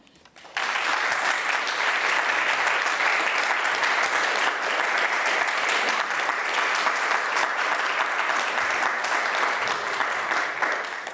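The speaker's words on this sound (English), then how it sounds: "I think they deserve an extra round of applause" Sustained applause from a large audience, starting abruptly and continuing loudly and evenly throughout.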